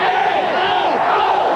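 Fans of the Apple Valley Eagles cheer after a 1989 Minnesota Class AA state high school boys soccer final win. A steady, dense crowd roar fills the space, with voices blending into a continuous wash.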